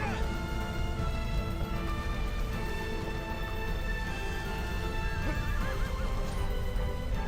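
A horse in the video game Shadow of the Colossus whinnies over steady clip-clopping hooves, with the game's tonal music and ambience running continuously beneath.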